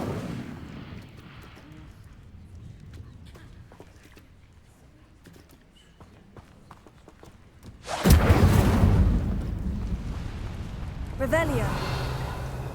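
Incendio fire spell cast in Hogwarts Legacy, a sudden loud roaring whoosh of flame that bursts in and keeps burning for several seconds, then flares again, following quieter clicks and game sounds with a voice speaking.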